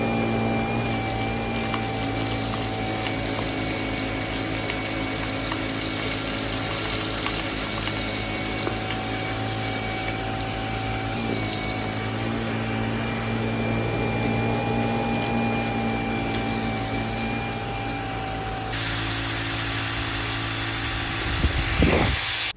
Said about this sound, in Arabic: دلوقتي هنجرب فرشة السجاد